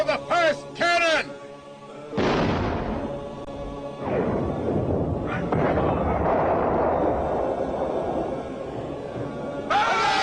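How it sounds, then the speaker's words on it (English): Cannons booming in the Battle of Empires video game at the 1453 siege, heavy blasts rolling out after shouted voices, then a sustained rumble of repeated firing and crashing impacts, with chanting voices returning at the end. "Fire the first cannon!"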